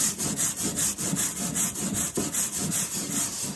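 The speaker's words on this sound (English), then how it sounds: "It's incredible how much going across the grain and you can get this Teak cleaned up" A teak wood toe rail on a sailboat being scrubbed across the grain to lift old grime, making a steady, rhythmic back-and-forth rasping close by, with no talking.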